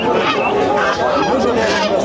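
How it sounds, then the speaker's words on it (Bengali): Large Chinese geese honk repeatedly and loudly at close range at a rural village poultry market, the calls overlapping in a busy, continuous chorus. "এই যে বড় সাইজের চীনা হাঁস"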